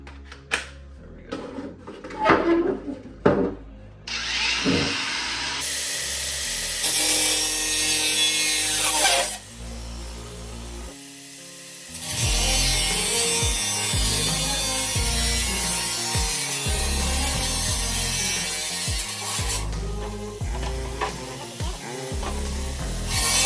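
A budget cordless angle grinder cuts in several bursts, harsh high whining grind with stops, restarts and clattering handling noises between passes, no speech.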